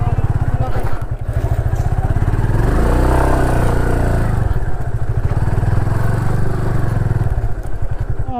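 A motorcycle rumbles loudly on a rough off-road track near Khumkut Dam in Odisha, its engine swelling and revving in the middle while clatter and thumps ride along.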